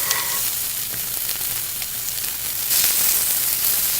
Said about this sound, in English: this Lodge cast iron is the best thing in the world for grilling inside